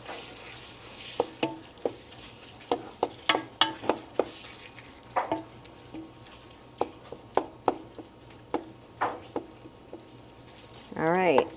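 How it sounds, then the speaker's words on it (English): Ground chopped meat browns in a frying pan with scattered sizzles and the tapping, scraping strokes of a stirring utensil, close and moderately loud, ending in a brief louder burst. "He's browning this up here."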